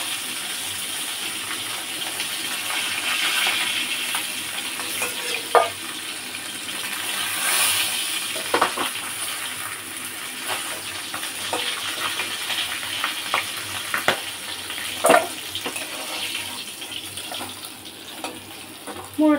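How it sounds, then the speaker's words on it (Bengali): A fish head fries in a pan, giving a steady sizzle mixed with watery hiss and scattered clinks of utensils, moderately loud and close. "এখানে দেখুন মুড়োটা ভাজা হয়ে গেছে।"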